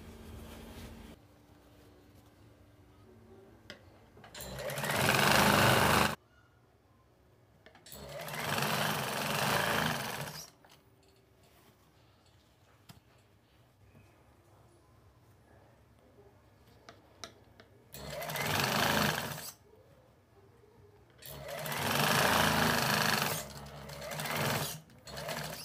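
A sewing machine stitches elastic into a pair of pants in four separate bursts, each a few seconds long of rapid whirring, with quiet pauses between runs.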